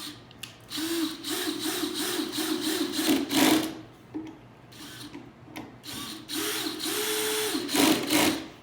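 A power drill whirs in several sustained bursts with short pauses between, driving screws into wood for an Adirondack chair close by, its motor whine steady and mechanical.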